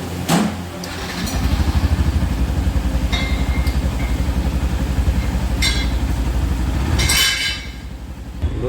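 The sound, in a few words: Yamaha FZ-X motorcycle engine running during test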